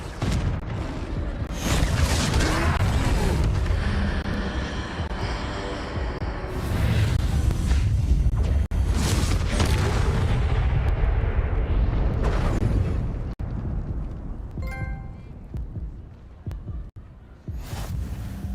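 Spell blasts and magic effects from the Harry Potter video game Hogwarts Legacy, with the Confringo fire spell, loud and booming over a continuous rumble of game audio and music, and a voice calling out spell names.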